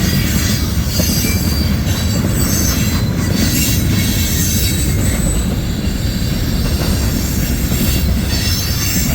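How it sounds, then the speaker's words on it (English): A CSX mixed freight train with tank cars up front rolls past in Homestead, Pennsylvania, a loud, steady rumble of wagons with wheel squeal running throughout, close and continuous. "It is a mixed freight train with tankers up front."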